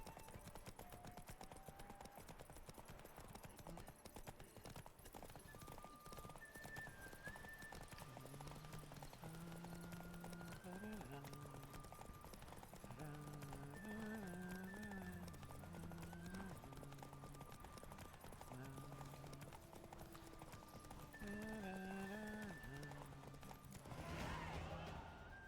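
A horse gallops in The Witcher 3: Wild Hunt, with steady hoofbeats running under music throughout and a sudden noisy burst near the end.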